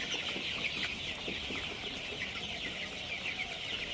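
A flock of chickens clucks continuously nearby while eating, a busy overlapping chatter with soft pecking sounds underneath.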